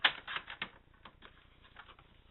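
A paper trimmer slices down the edge of a card for a Halloween witch-feet design, giving a few quick close clicks and a short cutting scrape at the start, then fading to softer faint rasps.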